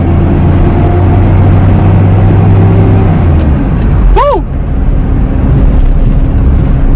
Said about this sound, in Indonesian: Raungan mesinnya.